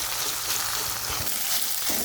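Food frying in hot oil in a home kitchen until its moisture cooks off, a steady close crackling sizzle running without a break for the whole stretch, with faint stirring knocks underneath.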